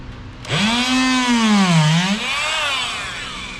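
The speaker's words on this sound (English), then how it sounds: "this is just a Harbor Freight oscillating tool, and you literally just use the sharp one" A Harbor Freight oscillating tool cuts through a knobby on a Black Bear MX618 tire, giving a loud, sustained buzzing whine that dips in pitch mid-cut under load and then settles, with no talking.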